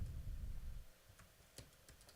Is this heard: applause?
no